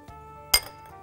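A spoon stirs strawberry jam sauce thickened with starch and orange juice in a pot, giving a couple of light, close metallic clinks against the pot in a brief, otherwise quiet moment.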